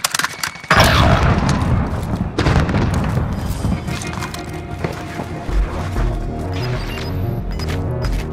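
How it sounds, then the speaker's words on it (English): A grenade blast in Call of Duty Warzone on Rebirth Island hits with a loud sudden boom after a brief lull, then rumbling debris and scattered gunfire and footsteps carry on underneath. "Grenade."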